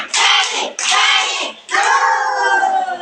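A group of children clapping in bursts during the Tepuk Anak Soleh chant, loud and close, with two short rounds followed by a longer stretch of clapping and voices.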